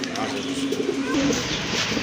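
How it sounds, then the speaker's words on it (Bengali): A large grizzle-type foreign pigeon coos in a low, soft murmuring call twice, close by, under a steady background hiss. "খুবই সুন্দর বিগ সাইজের কবুতর এটা"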